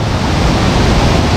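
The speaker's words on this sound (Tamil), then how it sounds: "சூப்பர் அருவி மார்மலா" Marmala waterfall near Teekoy roars up close, a loud, unbroken wash of rushing water that fills the whole moment with no voices.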